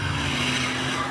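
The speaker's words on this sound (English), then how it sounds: "Get a lot of smoke going. Screeching, screeching, screeching." An American muscle car spins its tires in a smoky burnout, a loud steady engine drone with a harsh rubber screech running through the whole brief moment.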